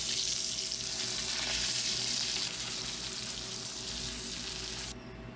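Thala fish sizzles steadily as it fries in oil in a pan, a dense, continuous crackle close to the pan with no talk, fading a little toward the end.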